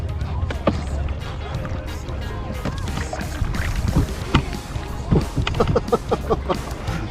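Small boat floating and moving on Lake Tahoe, with water lapping and knocking against the hull, scattered splashes and bumps, and the steady rush of motion close to the microphone.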